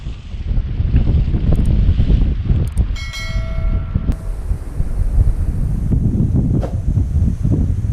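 Strong wind buffeting the microphone during paraglider ground handling, a loud continuous low roar with gusty surges and a brief metallic jingle midway.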